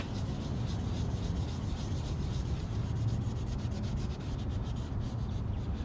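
Steady, close rubbing by hand on a 2012 Kia Soul headlight, smearing apple cider vinegar across the plastic lens in a continuous gritty, scrubbing texture with no pauses.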